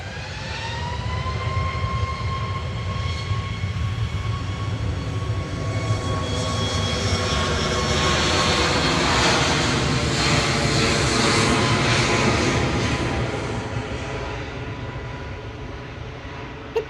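Boeing 737 Max 8 jet on its takeoff roll at Manchester Airport, a loud sustained engine roar with rising whine tones that swells and holds, then eases slightly as it departs.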